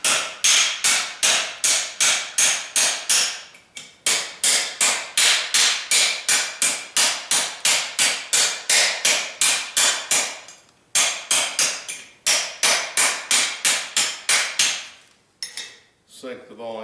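A Warrington-style hammer strikes metal held over a V-block in a vise while sinking a hollowform, sharp rapid blows in steady bursts of about ten, with brief pauses between runs, loud and close.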